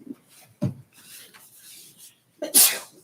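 Two sneezes, the second louder and sharper, with soft rustling and breathy noises between them.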